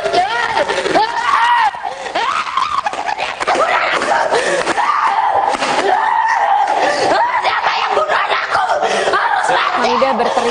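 In Bali, a mother screams hysterically over her murdered daughter Angeline, her loud, ragged wails rising and breaking continuously amid a noisy, agitated crowd and overlapping voices.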